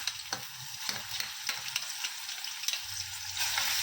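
Garlic-ginger paste sizzling in hot oil with cumin, a steady close crackle with scattered sharp pops and a brief stir near the end.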